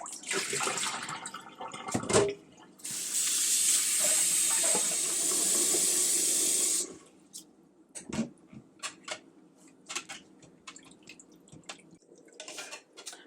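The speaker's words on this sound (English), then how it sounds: "I'm going to put some more cold water in there." Cold water poured into a container during goat milk soapmaking, a steady splashing hiss for a few seconds followed by scattered drips and small knocks.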